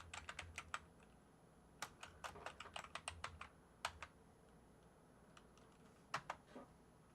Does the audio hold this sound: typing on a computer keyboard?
yes